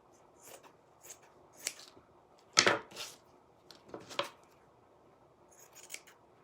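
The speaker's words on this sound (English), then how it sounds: "I am going to cut a little of this excess right here off" Scissors snipping excess fabric off a decoupaged Dollar Tree wood cutout, a handful of crisp, close cuts in an irregular rhythm against a quiet room.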